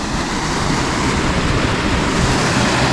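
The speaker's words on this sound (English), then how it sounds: "Little waterfall running through here." A small waterfall in a creek at a campsite, a loud, dense, continuous rush of falling water heard up close, with no voices.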